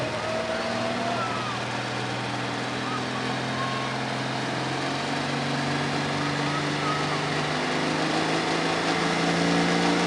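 John Deere pulling tractor in an 8,500 lb Limited class pull at Paris, Missouri, its engine droning steadily and building in pitch, loud and continuous with crowd-level background roar.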